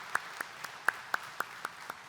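Sparse, faint clapping from a church congregation during a Korean service, about eight separate hand claps at an uneven, slow pace rather than full applause.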